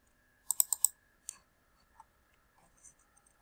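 Computer mouse clicks, a quick burst of four sharp clicks followed by a few isolated lighter clicks, close and crisp in a quiet room.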